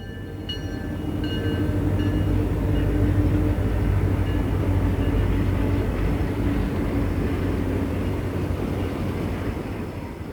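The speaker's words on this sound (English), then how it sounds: "The train passes the International Salt Mine." Southbound Conrail freight train in Conrail blue, led by former Penn Central GP35 diesels, passing the International Salt Mine near Ecorse Junction; a loud, steady rumble of locomotives and rolling cars holds close for the whole stretch, with faint tonal squeals early on.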